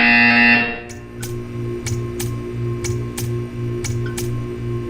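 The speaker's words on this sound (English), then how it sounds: "You will hear a buzzer" A buzzer in the Portal 2 video game, a steady electronic tone that pulses in short regular beats behind quieter ticking clicks, after a brief louder alarm-like sound at the start.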